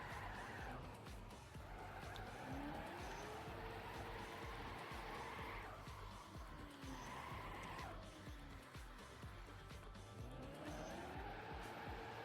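Video game car driving across an ice map, engine note rising and falling in long sweeps with tire skids and squeals, steady and continuous throughout.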